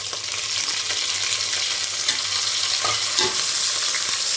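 Washed leaves are sautéed in a pan during chicken biryani preparation, producing a steady, close-up sizzle with occasional stirring scrapes and soft clatters.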